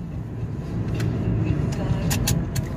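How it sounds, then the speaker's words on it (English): A Chrysler PT Cruiser drives on a road test after brake caliper and rotor work, a steady low engine and road hum from inside the car with a few brief clicks, and someone talking over it. "now we're doing a test drive"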